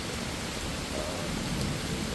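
Summer thunderstorm rain falls steadily onto a koi pond, a constant close hiss of drops that stays even throughout with no clear thunderclap.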